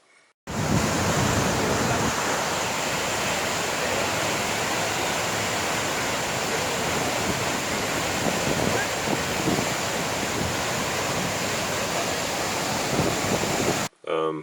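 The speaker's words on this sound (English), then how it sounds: "Waterfall was really pretty, really big, lots of rushing water." A big waterfall on the Snoqualmie River at Franklin Falls in the Pacific Northwest pours heavily, a loud unbroken roar of rushing water that fills the whole stretch before cutting off at the end.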